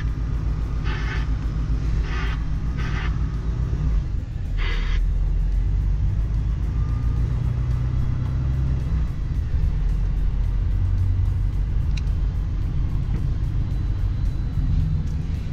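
A semi-trailer truck driving on a road in the Czech Republic, heard from inside the cab as a loud, steady low engine rumble and road roar, with a few brief higher whooshes early on and no talking.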